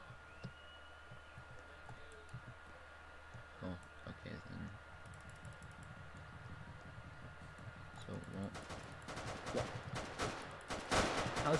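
Roblox shooter gunfire, bursts of rapid clicky shots that start sparse and grow into dense, loud volleys toward the end, with a player talking over the action.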